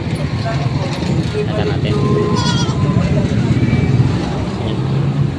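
Breeding nanny goats at a livestock market bleat among a loud crowd and passing vehicles, the calls partly buried under constant chatter and nearby talk.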